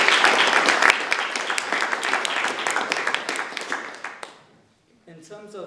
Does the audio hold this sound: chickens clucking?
no